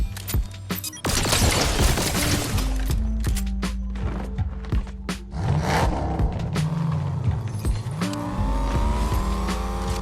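A car engine in Fortnite Zero Build revs and roars loudly up close, with tire squeals and bursts of gunfire over a steady low drone, then pitch climbs as it accelerates near the end.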